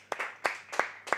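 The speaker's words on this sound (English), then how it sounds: "Everybody, give Clover a round of applause for a valiant effort here." A few scattered handclaps, four quick claps in a brief, light burst of applause, at a speedrun marathon event.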